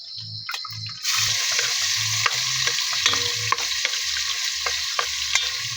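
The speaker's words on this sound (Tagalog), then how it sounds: "So, karon mag-gisa na ta, mag-gisa." Garlic sautéing in a hot pan, a steady loud sizzle that jumps up as it hits the oil, with a utensil stirring and scraping in a regular rhythm close by and no talk.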